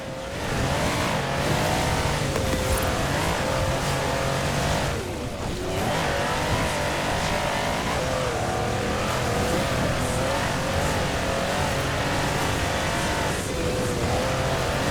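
A 6x6 off-road vehicle in Forza Horizon 4 drives hard, its engine roaring loudly and steadily for the whole stretch with shifting revs and some tire noise, close and unbroken.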